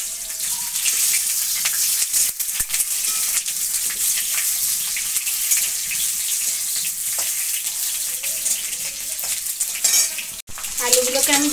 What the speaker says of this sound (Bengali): এই আলুগুলোকে এবার আমি ভেজে নেব